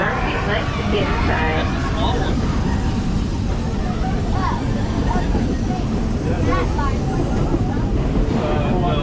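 The Big Thunder roller coaster train rumbles past over a trestle in a loud continuous roar, with crowd chatter and excited voices mixed throughout.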